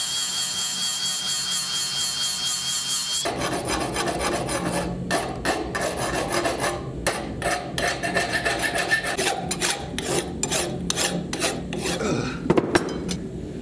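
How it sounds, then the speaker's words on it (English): A small angle grinder fitted with a flat disc roughs in the edge of a handmade axe, giving a steady harsh rasping grind with repeated scraping passes, loud and close, no voices. "I then go to town roughing in the edge with a flat disc on my small angle grinder"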